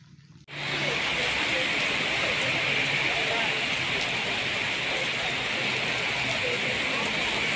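Heavy unseasonal rain from a cyclone pours down on a grain procurement centre, starting abruptly and then holding as a loud, dense, steady hiss of drops on surfaces.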